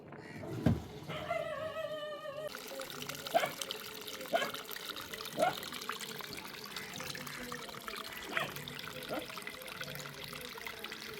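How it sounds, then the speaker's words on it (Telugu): Dirty wash water drains from a washing machine out through a pipe as a soft, steady trickle with small splashes, opening with a short series of electronic beeps, while a voice talks over it. "ఈ తిప్పిన ఈ మురికి నీళ్ళని పైప్ ద్వారా బయటకు పంపించేస్తాం"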